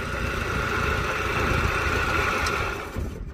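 An Allis tractor engine idles steadily just after a quick turnkey start, a close, even, continuous mechanical rumble with no one talking over it.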